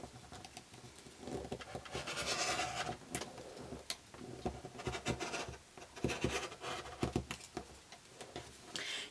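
Fabric pieces for a scrap quilt are cut from a 4.5 inch strip, giving a quiet, busy stretch of soft scraping, tapping and rustling close by, with no talk.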